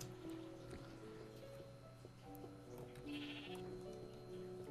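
Sheep in the video game Minecraft bleat several times over a quiet background of steady tones, the wavering baas short and fairly faint.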